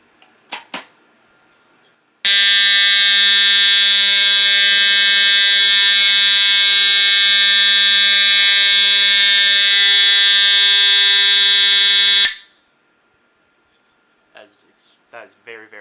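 Emergency vehicle siren run in California code 3 mode, blaring as one loud, steady electronic wail for about ten seconds after a short countdown, then cutting off sharply; faint clicks and handling noises sit before and after.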